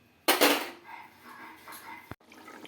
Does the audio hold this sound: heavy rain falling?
no